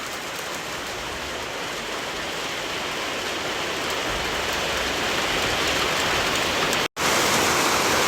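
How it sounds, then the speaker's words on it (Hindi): Heavy rain pours down steadily on surfaces around a home while the sun shines, a dense unbroken hiss that holds loud and even, cut by a momentary dropout near the end. "इतनी बारिश भी हो रही है"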